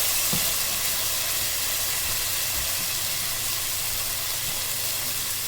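Marinated chicken hits the hot spiced oil in a pulao pot, setting off a steady, close hiss and sizzle that holds evenly for several seconds with no talking.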